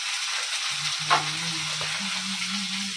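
Onions fry in a pan with ginger and garlic, giving a steady close sizzle with a faint low hum running underneath and a brief stirring scrape partway through.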